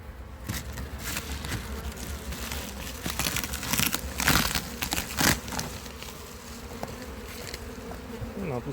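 Dense, steady buzzing of many honeybees up close in an opened hive, with occasional crinkling and rustling noises rising above the swarm's hum.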